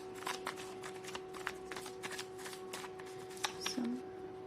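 A deck of cards is shuffled close by in a quiet room, giving quick riffling bursts and soft flicking taps in an uneven run, over a faint steady hum.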